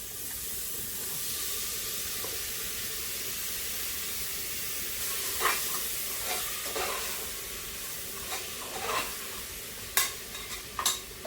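Four large tomatoes sautéing in a pan give a continuous close hiss of frying, and a spoon scrapes and taps the pan several times in the second half.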